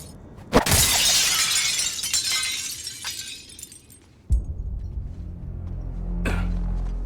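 Glass shatters loudly in the Suicide Squad: Kill the Justice League video game, a sharp crash followed by a bright spray of falling shards, then a second heavy impact and lingering debris.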